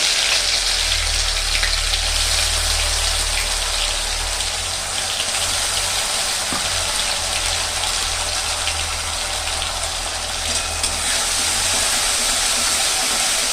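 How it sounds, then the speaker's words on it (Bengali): Spices fry in hot oil in a pan for an egg curry, producing a loud, steady hiss and sizzle close up with a low hum underneath, continuous throughout. "তেল গরম হয়ে গেছে, দিলাম মশলা।"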